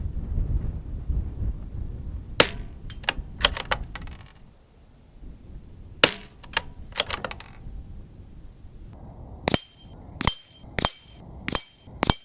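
A CZ457 stainless synthetic .22LR rifle fires a series of sharp, crisp cracks, several spaced shots then a faster run of five near the end, each a short snap over a quiet outdoor background.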